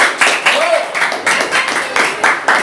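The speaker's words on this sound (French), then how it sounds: "je pense qu'on peut applaudir Fanny qui a passé toutes les." Scattered hand claps from a small audience at an indoor athletics meeting in Bompas, rising in bursts over a few seconds, close and moderately loud, with some voices in the background.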